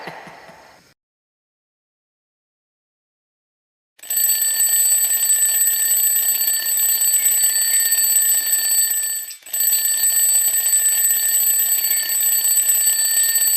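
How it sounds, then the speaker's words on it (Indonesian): An alarm clock goes off at night: after a moment of faint noise and a few seconds of silence, a loud, continuous electronic ringing starts and keeps going with one brief break. "Malam-malam segala nyalain alarm lagi."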